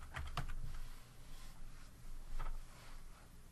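A few soft keystrokes on a computer keyboard as a name is typed into a CAD text box, faint and sparse clicks over quiet room noise.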